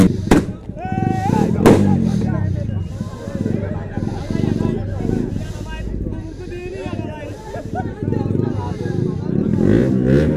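Fireworks at a biker's wedding in Chittagong: a couple of sharp bangs and a rising whistle near the start, then continuous crowd chatter and voices over the festive noise.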